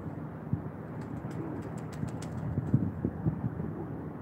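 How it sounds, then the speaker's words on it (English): Pigeons cooing softly at sunrise on the Wirral seaside, low repeated coos rising above a constant murmur of wind and water, fairly faint and at some distance. "Right, pigeons."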